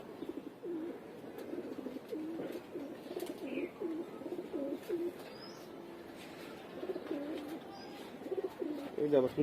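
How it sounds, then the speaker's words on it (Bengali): Homing pigeons coo repeatedly in low, rolling, rhythmic phrases close by, with occasional faint chirps and a soft background murmur. "এই যে আবার কোন কবুতর"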